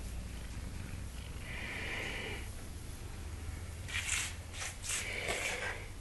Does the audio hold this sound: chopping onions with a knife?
no